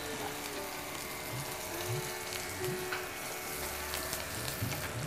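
Boiled goat liver fries in a pot for pulao, giving a quiet, steady sizzle with occasional soft stirring scrapes and clinks throughout.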